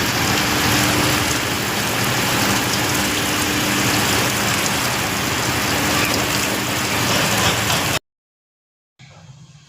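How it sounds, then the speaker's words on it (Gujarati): Steady, dense rain pours down outdoors, a loud continuous hiss with no voices, cutting out abruptly near the end before resuming more faintly. "વરસાદ પડવા માંડ્યો"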